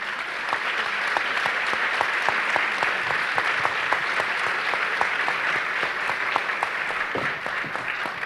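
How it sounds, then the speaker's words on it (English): An audience at a literary festival applauds imprisoned writers, a sustained wash of many hands clapping at steady volume, with distinct individual claps standing out through the crowd. "So a round of applause,"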